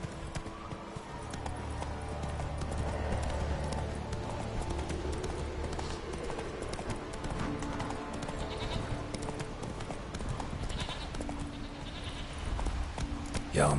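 Roach the horse galloping in Witcher 3, with a steady, rapid clip-clop of hooves throughout and other game sounds layered underneath.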